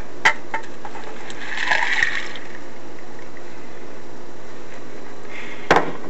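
Water is poured into a small saucepan of walnuts for homemade walnut ink, a brief gushing splash lasting about a second, close by, with quiet handling knocks before and after.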